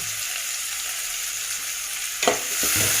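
Food fries in a pan with turmeric and chili powder being stirred in, giving a loud, steady sizzle, then a brief clatter of the spoon scraping near the end.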